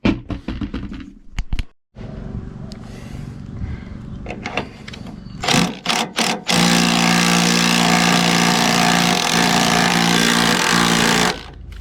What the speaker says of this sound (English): connect this to my little impact driver